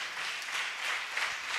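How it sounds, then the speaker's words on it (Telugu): An audience at a Christian thanksgiving festival gathering applauds steadily, a dense wash of many hands clapping together at moderate loudness with no voices over it. "చప్పట్లు కొడదాం ఒకసారి"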